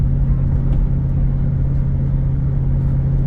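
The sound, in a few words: 2004 Ford Excursion engine accelerating uphill under load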